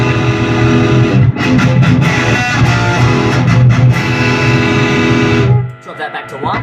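High-gain electric guitar through an MI Audio Megalith Gamma 80W head with the EQ setting at 0, playing dense, driven chugging riffs at close range that suddenly cut off near the end, leaving a brief decaying tail.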